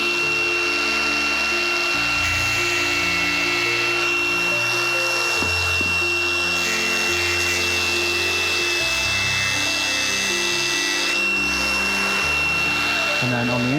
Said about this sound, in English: I'll go and get the grinder.